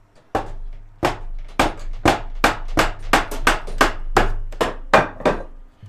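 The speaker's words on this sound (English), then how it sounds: "I'm hitting that with my hammer drill" A series of about a dozen sharp, loud percussive hits from a hammer drill, close and fairly regular, with a low hum underneath.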